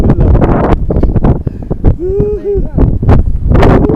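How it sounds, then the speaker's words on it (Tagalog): Loud winter wind in the Czech Republic buffets the microphone in heavy rumbling gusts while people talk over it. "Lakas ng hangin."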